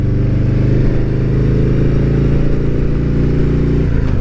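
A motorcycle engine runs loud and close with a steady, throaty low-pitched drone, holding a fairly even pitch throughout with a slight shift near the end and no speech.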